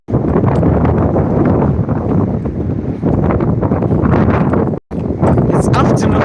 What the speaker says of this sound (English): but it's so windy.